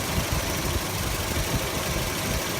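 A car engine idles with a vacuum leak, a steady, close, even rumble with no audible shake or change in rhythm throughout.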